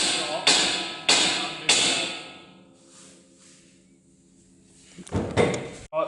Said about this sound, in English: then knock it with a hammer on the side,